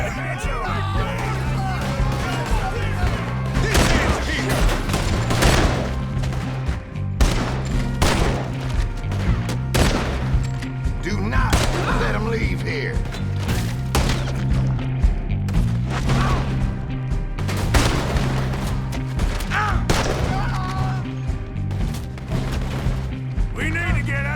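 Bursts of gunfire in Red Dead Redemption 2 during a shootout at a mayor's house party, repeated cracks and booms scattered through the clip over steady music and voices.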